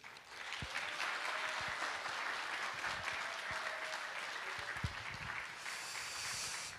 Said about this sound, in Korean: 나오실 때에 큰 박수 한번 해주시고 기대됩니다.